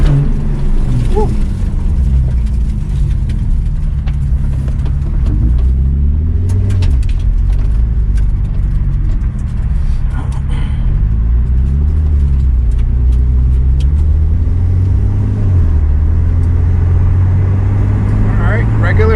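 Porsche 911 Turbo 997.2 with PDK transmission driving, a loud steady low engine and road rumble throughout with rising and falling tone as gears shift, a brief voice near the start.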